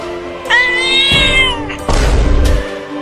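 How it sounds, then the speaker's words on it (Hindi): A cat meows loudly with a long rising-falling yowl, followed by a second harsh, noisy cry, close and alone with no talking. "अब कहाँ बच के जाओगे बिल्ली?"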